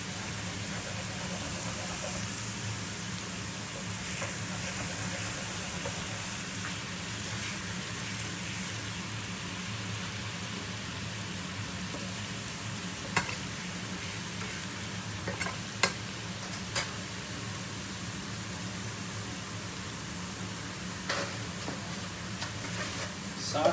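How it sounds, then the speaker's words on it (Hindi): Tarka for masoor dal frying in a pan while being gently stirred, a low, continuous sizzle with occasional sharp clinks and scrapes of the spoon, fairly faint and steady over the whole stretch. "साथ साथ इसको हल्का सा हिलाते जाएं, ये ना हो कि वो बिल्कुल बहुत ज़्यादा ब्राउन हो जाए।"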